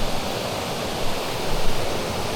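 A river at a wild family campsite bathing spot flows in a steady, dense rush of water, close and fairly loud, alone without any voices.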